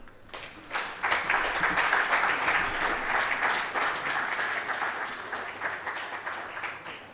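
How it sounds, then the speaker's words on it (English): Sustained applause from a crowd at a building inauguration, a steady wash of clapping that swells early and holds at a moderate level before slowly tapering. "Round of applause for her once again as she takes a seat."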